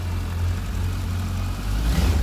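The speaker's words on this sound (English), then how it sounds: "Just give it a quick rev." A Suzuki Bandit 1250 S motorcycle engine running close by, a steady low throbbing that rises slightly near the end as it is given a quick rev.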